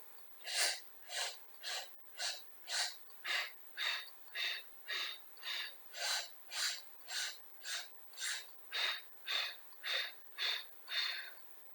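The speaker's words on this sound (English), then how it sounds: "Let's get ready to bounce and staccatically breathe." Staccato breathing during a curl-up exercise, about twenty short, evenly spaced breathy puffs in a steady rhythm, close to the microphone and fairly quiet, with no talk.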